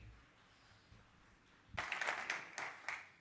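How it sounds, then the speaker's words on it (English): Applause for a speaker at an international congress on diamagnetic therapy, with faint room tone that gives way to a burst of clapping from a modest audience, fairly distant and brief. "So a round of applause for him."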